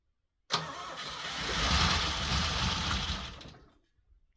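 An AC Aceca, registration BEX 636, fired by hot wire while the throttle is worked, catches abruptly and roars up, holding a loud rough idle for about three seconds before dying back, with a brief restart at the end.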